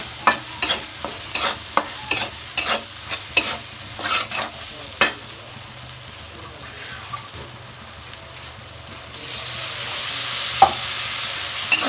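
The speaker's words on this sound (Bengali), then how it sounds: "দিয়ে আমি মশলাটা একটু ভাজা ভাজা করে" Spice paste sizzles in a pan while a utensil stirs and scrapes in a quick run of clinks, then the frying hiss grows louder and steadier.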